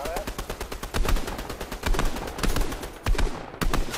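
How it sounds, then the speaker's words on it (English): Gunfire in the video game Fortnite: rapid, loud bursts of automatic shots in quick succession, with brief gaps between volleys and some faint talk underneath. "I'm getting shot at."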